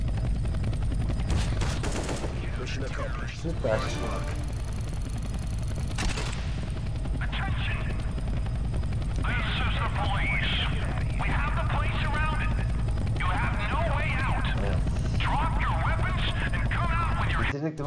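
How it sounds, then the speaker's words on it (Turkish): In Counter-Strike: Global Offensive, a helicopter's steady rotor drone fills the scene loudly, overlaid by bursts of gunfire and people talking excitedly. "Helikopter geliyor."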